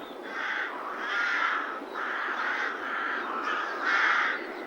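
Rooks mobbing a buzzard give repeated harsh caws in a steady series of rasping calls, moderately distant against a soft background hiss.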